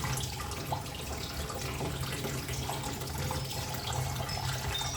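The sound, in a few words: water poured onto a dry potted plant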